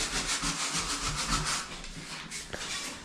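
Sandpaper rubs back and forth across a wooden piece of a small kitchen cabinet being built, a quiet, rhythmic scratchy hiss of repeated strokes that slows and fades near the end.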